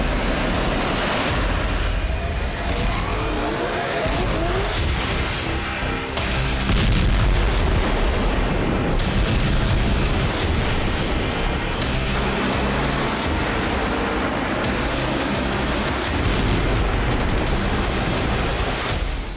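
Heavy, continuous rumbling explosions from Israeli bombardment of Hezbollah positions in Lebanon, with repeated booms and blasts layered over a constant loud roar, no voices.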